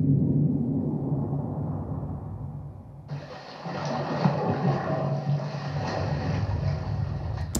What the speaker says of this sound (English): So that was just the sound effect of someone swimming.